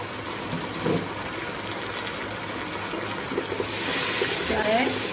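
Water being poured into a pan of chicken and spices, a soft steady trickle and gush that swells toward the end beneath a voice talking.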